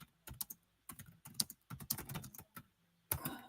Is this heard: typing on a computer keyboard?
yes